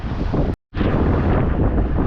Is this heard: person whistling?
no